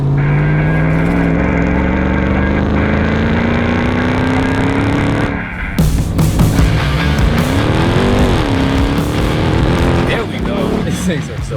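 A 1000-horsepower Hennessey Mammoth 1000 TRX truck roars off-road on a dirt track, its engine droning loud and steady, then surging and revving hard with tire noise as it accelerates, with voices talking over it.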